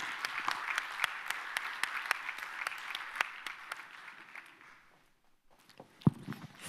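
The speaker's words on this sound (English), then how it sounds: "Let's give them a warm round of applause, please, ladies and gentlemen" A conference audience at a climate investment event gives a sparse, scattered round of applause as panelists walk onstage, individual claps standing out, thinning and fading before a brief rustle and knock at the end.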